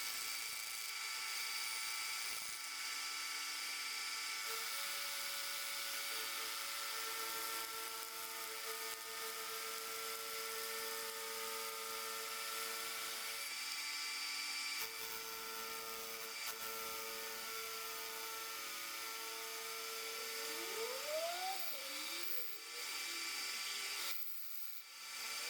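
A lathe roughs out blanks for pulley sheaves, a continuous high whining machine tone with steady cutting noise and a brief shifting squeal near the end.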